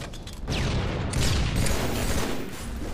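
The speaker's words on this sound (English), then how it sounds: "Ooh, battle rifle." Battle rifle fire in Halo 3 crackles through a busy multiplayer match, dense bursts of gunshots and explosive booms layered over one another, loud and continuous for a few seconds without speech.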